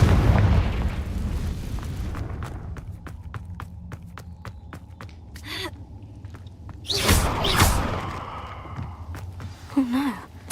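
The Confringo fire spell bursts in Hogwarts Legacy: a series of sharp ticking clicks leads into a loud, rumbling explosion partway through, followed by another short blast, with breathy gasps mixed in.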